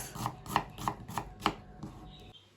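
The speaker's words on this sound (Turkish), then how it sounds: "Kuru soğanlarımızı da ince ince yemeklik doğrayacağız." A knife finely chopping dry onions on a cutting board, five crisp evenly spaced chops at a brisk rhythm, close and clear, with no talking.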